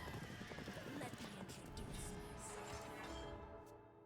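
A horse neighs in a card video game when the rush horse card is played, a loud whinny mixed with clip-clopping hooves and game sound effects over a busy backdrop.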